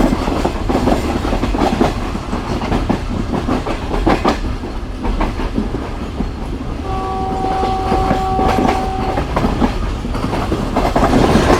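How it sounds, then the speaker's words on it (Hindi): Shalimar Express passenger train approaching Samma Satta junction railway station in Pakistan, a loud rumbling roll of wagons with clattering wheel clicks and a brief horn tone partway through, kicking up dust as it comes near. "ओए बड़ी मट्टी धूल के साथ ट्रेन अप्रोच बना रही है जी"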